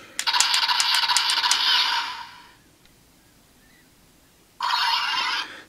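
A DX Musou Saber toy gives out a loud electronic reload sound effect with rapid clicking pulses, then goes quiet for a couple of seconds before another burst of the effect.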